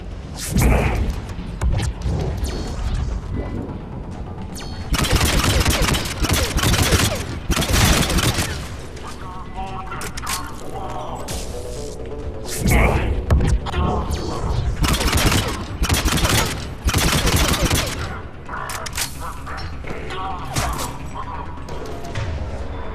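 Turret gunfire in Mass Effect 3, loud repeated bursts of heavy automatic fire in separate volleys several seconds apart, with thuds and crashes between and a player speaking at times.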